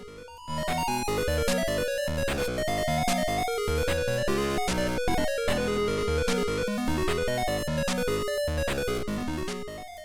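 Bright chiptune-style melody from the Atari 7800 game BallBlazer, with a steady beat and layered synth tones, playing continuously and loudly with no talking.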